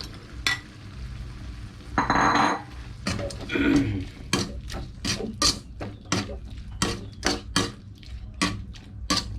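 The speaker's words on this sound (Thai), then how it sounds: "นี่กุ้งที่เขาลวกไว้ลงเลย" Blanched shrimp are stir-fried with shrimp paste in a pan, giving a run of regular clattering spatula strikes and scrapes over a low sizzle, close and fairly loud.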